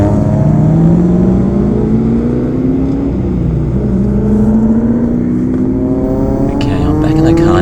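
A VW Golf GTI MK7 drives on a race circuit, its engine droning loudly up close with rising and falling pitch as it accelerates, shifts and pulls again, with wind noise over the continuous roar.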